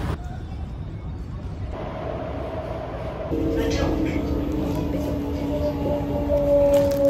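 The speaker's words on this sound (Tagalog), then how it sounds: "Train to city. Okay, so train na tayo." Singapore MRT train running from the airport toward the city, a steady rumbling ride with a rising hum and a whining tone near the end as people talk quietly.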